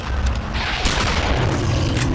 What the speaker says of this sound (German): Okay, die Shotgun ist sehr mächtig.